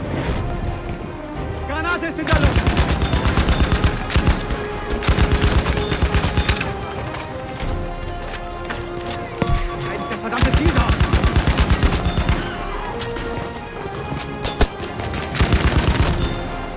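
A Madsen MG machine gun in Battlefield 5 fires long, loud, rapid automatic bursts close up, with short pauses between them and other shots and battle noise around them. No one speaks.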